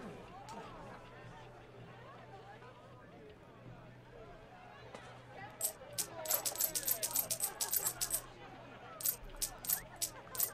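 Dice rattle and clatter in a dice game in the Assassin's Creed Brotherhood video game, a quick run of sharp clicks as they tumble and settle, heard twice in a row over soft background murmur and ambience.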